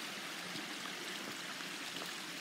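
A small creek pours over a little waterfall, producing a steady, soft rushing and splashing wash of water that continues evenly throughout at moderate distance.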